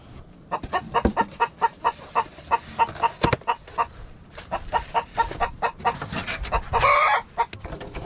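Barred Rock chickens cluck nearby in a quick series of short, rhythmic clucks, with a brief louder squawk toward the end and no talk.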